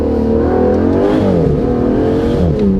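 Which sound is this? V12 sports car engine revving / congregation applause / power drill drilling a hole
V12 sports car engine revving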